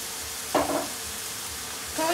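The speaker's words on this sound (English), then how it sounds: "So now I'm going to add my meat, and you're going to leave it to cook." Ground beef for samosas fries in a pan with a soft continuous sizzle, and a louder burst of crackling and stirring comes partway through.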